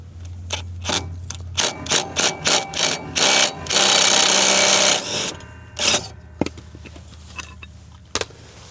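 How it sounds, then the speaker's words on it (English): A quarter-inch impact driver loosening the blade bolts on a lawn mower: a run of short whirring bursts, then a longer loud rattling hammer, followed by a few more scattered bursts and clicks, close by and with no talk. "But this little quarter inch impact loosen these bolts up, so not too bad."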